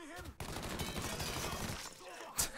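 A flurry of gunshots in the video game Mafia 3, a dense stretch of rapid fire lasting about a second and a half, fairly quiet, with a voice around it and a sharp crack near the end.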